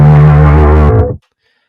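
A Yamaha Attitude Limited 3 bass guitar on its P pickup through effects pedals, one loud sustained low note with a buzzy processed edge that rings about a second, then cuts off into silence.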